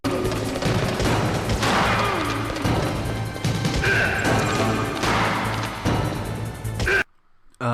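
Gunfire during a boss fight in the video game Metal Gear Solid, with loud crashing shots and impacts over a busy game soundscape, sharp bursts recurring every second or so.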